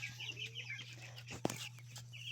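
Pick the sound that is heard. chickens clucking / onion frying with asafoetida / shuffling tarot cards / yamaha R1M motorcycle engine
chickens clucking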